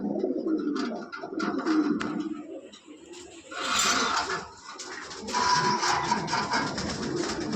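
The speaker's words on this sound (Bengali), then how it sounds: "এখানে দেখতেছেন আরেক পেয়ার ব্ল্যাক লাহরি অনেক জাম্বু সাইজের অনেক বড় সাইজের পেয়ার এগুলা" Black Lahori pigeons, a large jumbo-sized pair, give low, rolling coos close by in repeated bursts, with some rustling and faint clatter between calls.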